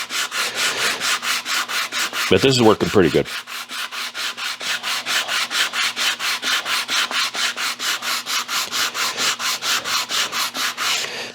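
A sanding block rubs back and forth over a wooden cremation urn box in fast, even strokes, loud and close, with dozens of repeated scrapes and a brief pause where someone speaks.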